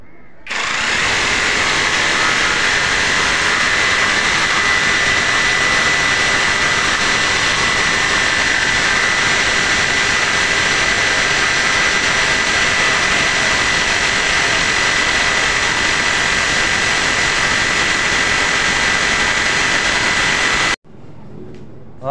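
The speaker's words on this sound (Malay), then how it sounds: "kita akan test satu lagi pengujiannya untuk memotong besi" A 20 V Dagmara cordless jigsaw cuts through hollow steel tube, giving a loud, steady, harsh buzzing drone that runs almost unbroken for about twenty seconds before stopping abruptly.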